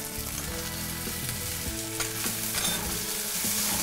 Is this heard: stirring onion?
yes